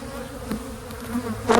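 Honeybees in a boosted hive with emerging brood hum in a steady, close buzz, with a few brief louder swells as individual bees pass near.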